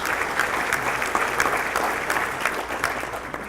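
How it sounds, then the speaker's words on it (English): A roomful of people at a mayor's breakfast in Clovis applauding warmly for a guest's wife, a full, steady round of clapping with no talk over it. "She deserves her own round of applause."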